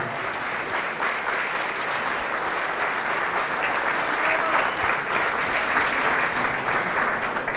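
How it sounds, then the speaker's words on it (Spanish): Sustained, dense applause fills a large Catholic religious gathering, a steady loud roar of many clapping hands that holds evenly throughout without a break. "Fuertes aplausos a Jesús de Nazaret."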